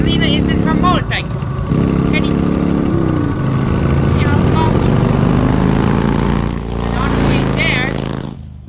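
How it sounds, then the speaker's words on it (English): Selina's motorcycle in Batman: The Telltale Series, a loud steady engine drone running through the whole street scene, with voices and game music layered on top. "And on the street, Selina is in her motorcycle."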